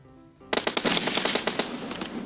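Rapid automatic gunfire from the PUBG Mobile game erupts after a short quiet start, a loud close burst of repeated shots that trails off into echoing fire.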